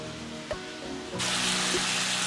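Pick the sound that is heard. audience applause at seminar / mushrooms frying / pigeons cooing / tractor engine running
mushrooms frying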